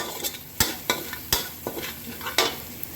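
Irregular scraping and tapping of a utensil stir-frying shrimp with fish sauce in a pan, with sharp clanks at uneven intervals over a faint sizzle.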